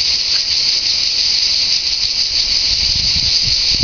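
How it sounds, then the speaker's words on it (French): Cicadas sing in a continuous, loud, high-pitched buzzing drone that holds steady throughout, with faint low rustling underneath. "J'essaye d'écouter les cigales."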